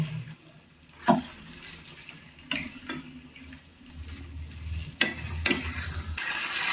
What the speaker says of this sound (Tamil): இப்போ அப்படியே ஒரு கிளறி கிளறி கிளறி விட்டுருவோம்